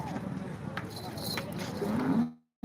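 A cow lows briefly near the end amid a busy outdoor crowd at the Modnimb cattle market, with people talking in the background, then the sound cuts off.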